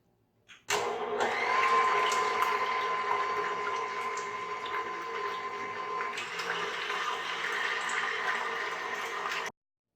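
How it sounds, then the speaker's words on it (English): Egg whites and sugar whipped for strawberry macarons by an electric mixer, a steady loud whirring drone with a faint high whine, running continuously for about nine seconds before stopping abruptly. "we're going to start whipping this up until we get a firm peak"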